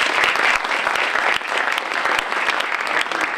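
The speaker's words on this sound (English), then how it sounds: "So I'd like you to give them a round of applause" Sustained applause from a lecture audience for the officers of a student club, dense and steady clapping throughout with no voice over it.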